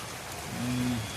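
Rain falls in a brief, even patter of drops, steady and fairly close, with a faint low hum rising partway through and no talking.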